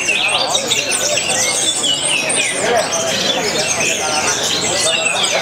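At a Murai Batu songbird-singing contest, dense overlapping chirps and whistles from many caged birds fill the air, loud and continuous. A voice on a loudspeaker talks over the birdsong.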